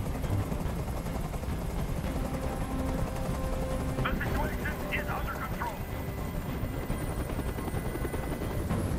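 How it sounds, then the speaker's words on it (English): Helicopter hovering overhead in the video game Detroit: Become Human, a steady loud rotor drone throughout with a few brief bursts of gunfire-like noise midway and voices speaking over it. "Tell that helicopter to get out of here."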